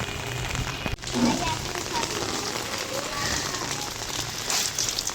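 Heavy rain pours steadily outdoors in a dense, continuous hiss, close and loud throughout, with brief soft sounds briefly breaking through.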